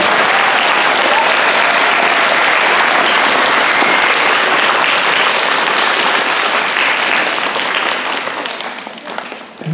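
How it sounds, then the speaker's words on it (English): An elementary school assembly audience gives veterans and auxiliary members a loud, sustained round of applause, dense clapping from many hands that holds steady before tapering off near the end. "Let's give them all one big round of applause."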